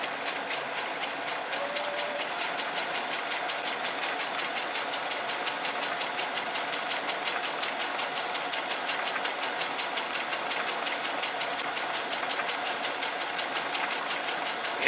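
A Brother SE630 sewing machine fitted with a dynamic walking foot stitches at speed, a rapid, even mechanical chatter of needle strokes that continues steadily and close by for about fifteen seconds.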